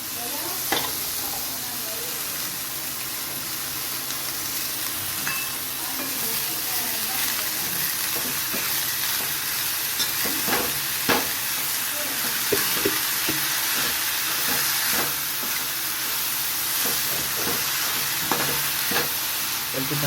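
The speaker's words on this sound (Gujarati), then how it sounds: "ભાજી આપણે સરસ ધીમા તાપે મૂકી દીધી છે" Pav bhaji vegetables cooking in a pan on low heat, a continuous dense sizzle with regular scraping and tapping as a spoon stirs the mash.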